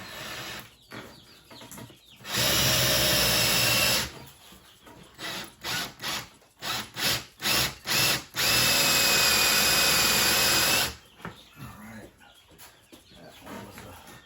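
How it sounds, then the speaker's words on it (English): A power drill driving screws into a brooder whines in long sustained runs, broken by a rapid series of short stop-start bursts, fairly close and loud. "Oh, my drill kind of ate up a little bit of it."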